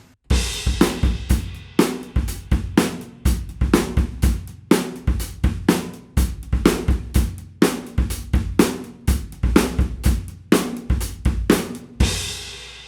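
Drum kit playing the verse groove of Paramore's "That's What You Get", with bass and snare trading a steady, busy pattern and cymbals washing over every beat, loud and close for about thirteen seconds without talk.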